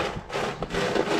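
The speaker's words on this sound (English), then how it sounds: "That's the sound of croutons." Dry croutons crunch and rattle in a brisk, crackly burst up close, with no talking.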